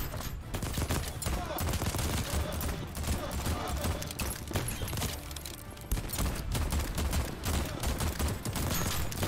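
Rapid, sustained gunfire in the game Voidtrain, dense crackling shots that keep going nearly without pause, loud throughout, with some talking mixed in.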